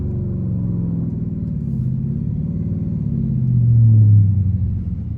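A Dodge Scat Pack rumbles along on the road, its engine a deep, steady low drone from inside the cabin that swells briefly as the throttle opens before easing back, with no talking.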